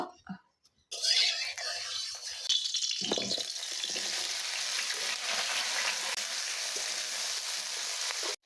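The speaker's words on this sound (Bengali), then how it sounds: "চিকনি আলুটা আর গাজ আলুটা আমি আগে ভাজা করে নিব।" Chikni and gaj potatoes frying in hot oil in a wok, a steady bright sizzle that starts abruptly and continues loud and unbroken for several seconds.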